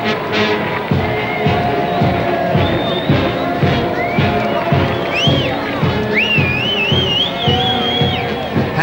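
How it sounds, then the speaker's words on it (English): Crowds line the route of a royal wedding procession for Prince Charles, cheering and whooping in a loud, continuous roar, with whistles and shouts rising above the babble close by. "Everyone gets a cheer as the columns assemble."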